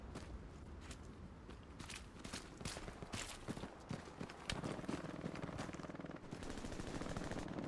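Gunfire in the World War II shooter Hell Let Loose on the Omaha Beach Vierville map: rapid bursts of automatic fire and scattered single shots crack repeatedly throughout, dense and continuous.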